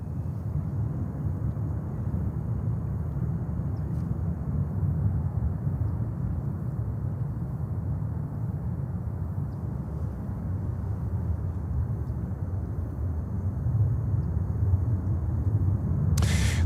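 A Delta Boeing 737-900 at JFK airport gives off a steady broad jet roar, a distant and continuous rumble that swells slightly near the end, with no talking.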